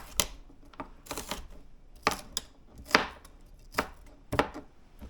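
A knife chopping food into small cubes for a Quebec cipaille pot pie, sharp distinct chops on a cutting board in irregular clusters, close and fairly quiet, with no talking.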